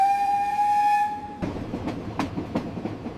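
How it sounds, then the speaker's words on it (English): A passenger train running through Egypt toward Luxor, a steady tonal whine fading into rolling rail rumble with a few sharp clanks from the carriage, close and fairly loud, no talking. "Taking the train down to Luxor."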